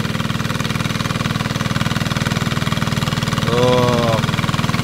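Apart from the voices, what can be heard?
diesel engine running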